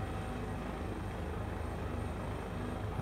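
A helicopter hovering just before touchdown in a VR flight simulator, heard as a steady, dense rotor and turbine drone at moderate loudness with no talking.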